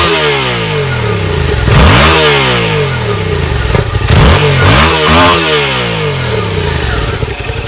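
A Yamaha MT-07 Tracer motorcycle engine with its stock exhaust is revved hard several times from idle, loud and close, each blip rising and falling in pitch, with no talk over it.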